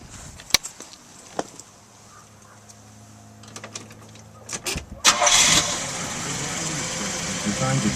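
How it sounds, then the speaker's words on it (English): A 1968 Buick Skylark GS engine cranks and catches after some clicks and clunks, then settles into a steady idle, close by. "we'll go around here and we'll start her up"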